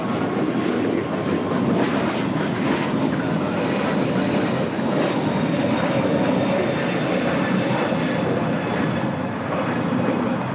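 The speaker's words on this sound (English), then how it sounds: "That is United Airlines 1980 taking off to Denver, Colorado on the A321neo." A United Airlines Airbus A321neo departing LAX for Denver, its loud sustained engine roar and rushing noise filling the air steadily throughout at close range, with no voices.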